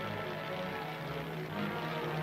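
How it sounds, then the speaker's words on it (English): A pilotless target drone plane, radio-controlled from the ground at a military test site, drones overhead with a steady propeller-engine hum, moderately loud and unbroken. "target drone planes, pilotless machines hurtling through the air under complete control of men on the ground"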